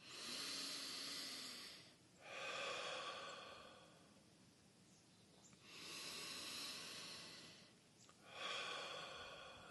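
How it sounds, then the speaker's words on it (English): Meditation breathing, drawing air in through the nose and out through the mouth: long, slow, airy breaths that swell and fade in a few cycles, close and soft, with no talking. "It will start with some breaths in through the nose and then out through the mouth."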